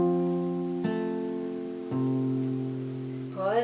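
Acoustic guitar fingerpicking pattern, played slowly: a few plucked notes and chords sustain and ring out close up, with no talking.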